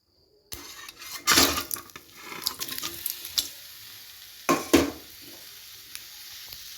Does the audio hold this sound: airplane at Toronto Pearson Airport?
no